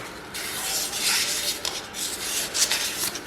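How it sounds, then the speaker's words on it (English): The steel bore for a ball joint on a 2021 Jeep Wrangler JLUR is sanded by hand with 1200 grit sandpaper, producing a close, continuous raspy rubbing with uneven back-and-forth strokes. "So I have some 1200 grit sandpaper."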